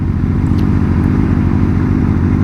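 A motorcycle engine drones steadily and loudly as the bike rides along, with brief clattery shift transients and no talking.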